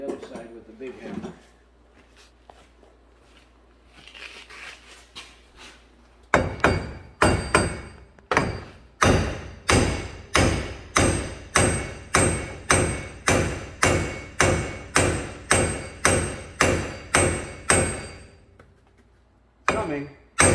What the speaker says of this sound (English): I'm going to swing on the other side with the big hammer.